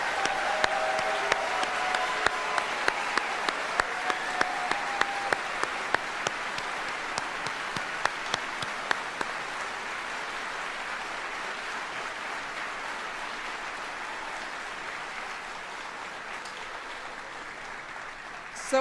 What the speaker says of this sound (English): please join me in giving a final round of applause for our 48 great soldiers who are retiring today